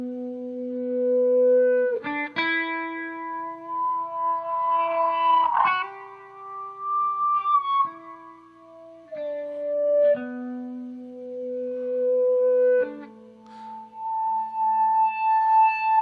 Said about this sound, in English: what the Freakout does is it takes a note and it creates feedback, kind of like you were holding the guitar in front of your speakers